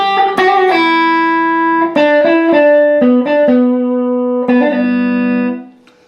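An electric guitar plays a two-measure horn solo from a song, with slides, hammer-ons and pull-offs on bright, slightly driven sustained notes, alone and loud before fading out.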